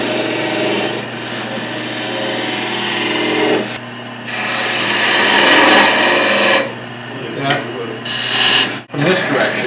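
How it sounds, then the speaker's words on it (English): A tool cuts wood on a variable-speed lathe, a loud, broad hissing shave held in long sustained passes with brief pauses between them, heard close up. "What I would do on my lathe, which is infinitely adjustable speed-wise"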